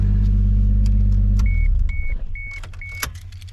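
A running Mk3 Toyota Supra idles with a deep rumble, then the hood is popped. A latch clunk follows, along with a few short, even chirps, all close and without talking.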